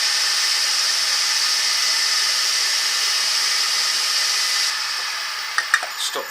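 Wood lathe spinning a turned bowl during finishing, a steady high whirring hum that cuts off near the end, followed by a few faint knocks and clicks.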